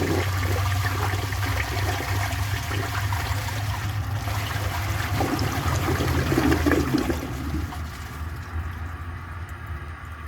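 A 1960 Standard Cadet toilet flushes a washcloth and a grocery bag, with a loud, steady rush of water for about seven seconds that then eases into a quieter trickle and refill.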